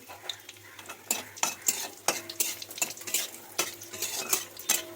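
Lentil dumplings (bori) frying in oil in a pan, with repeated sharp scraping and stirring clicks of a utensil over a steady low sizzle, close and moderately loud, no talking.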